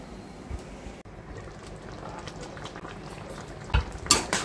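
Mushrooms simmer in their own released water in a pan on a gas stove over a medium flame, giving a steady close bubbling hiss with a few light utensil clinks near the end.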